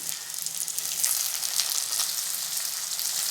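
Chopped tomato goes into onions frying in hot oil for a small-onion and garlic kuzhambu, giving a steady, close sizzle with crackling bursts throughout and no talking.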